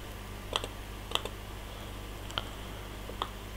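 Keystrokes on a computer keyboard while a test is edited, four sparse clicks and short bursts of typing, fairly faint over a low steady hum.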